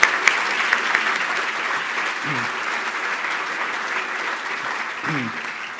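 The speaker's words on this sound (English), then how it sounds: "Let's give a round of applause to all our attendees." An audience at a State of the County 2015 event breaks into sustained applause, a dense, even wash of clapping that holds steady throughout, with faint voices underneath.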